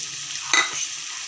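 Julienned carrots, capsicum and cabbage frying on a high flame, a steady sizzle with one brief louder burst of stirring midway, with no talking.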